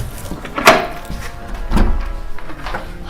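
An indoor door is opened with a sharp wooden knock or latch clunk, followed by a softer thud and some muffled rattling, close by and without talking.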